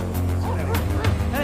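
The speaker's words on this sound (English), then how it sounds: "What's making you bark at me like that?" A dog barks in a cartoon scene, a few quick, yappy barks up close amid other voices.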